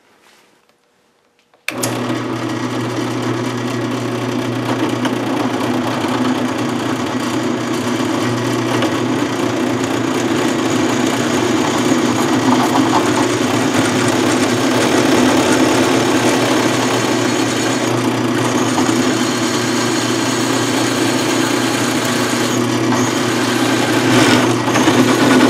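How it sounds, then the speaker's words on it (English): A drill motor starts up after a moment of quiet and runs steadily, drilling holes in metal, a continuous loud whirring drone with no pauses. "needs to drill a bunch of holes"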